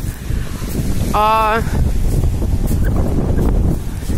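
Strong wind buffets an outdoor microphone in stormy weather, producing a loud, continuous low roar and rumble throughout. A short vocal sound cuts through briefly near the middle.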